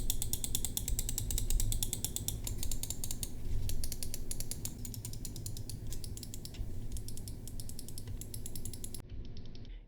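A Solakaka SM800 mouse gives rapid, rhythmic clicking up close, dense repeated ticks over a low mechanical rattle, running steadily before stopping abruptly.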